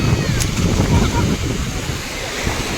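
Surf rolls in at a Mumbai beach as a steady, loud wash of breaking waves mixed with wind rumbling on the microphone, with no clear voices.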